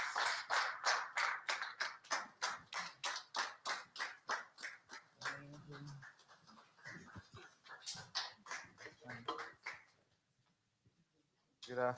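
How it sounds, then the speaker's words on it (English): Rhythmic clapping at a software development event welcoming the first speaker, loud and regular at first, then growing sparser and fading under brief talk before a short pause. "please let's welcome our first speaker, Winner Chikezie, with a resounding round of applause"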